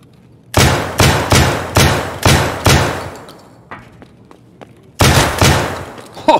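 A Benelli M3 shotgun in Escape From Tarkov fires as fast as possible: five heavy, evenly spaced booming shots, a short pause with clicks of handling, then another blast, loud and close, each ending in a decaying echo.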